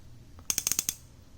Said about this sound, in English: So the bezel itself, 120 clicks, pretty sturdy, no back play or anything.